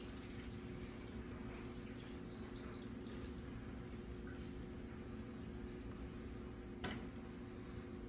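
An essential oil mixture poured through a small funnel into a spray bottle, a faint steady trickle and drip of liquid under a low hum, with one brief sharp click near the end.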